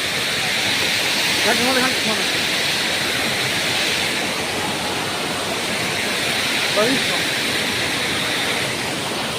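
Steady, dense rushing of falling water at Tirathgarh waterfall fills the whole stretch, loud and continuous like a waterfall nearby.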